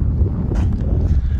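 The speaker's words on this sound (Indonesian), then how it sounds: "angin yang berhembus kayak gini" Desert wind blows across dry yellow grass, producing a low, gusty rumble against the microphone that swells and dips over a second or so, with no speech.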